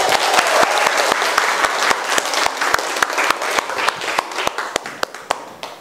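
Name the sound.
class applause for students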